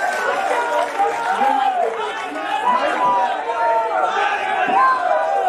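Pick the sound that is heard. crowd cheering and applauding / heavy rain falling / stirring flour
crowd cheering and applauding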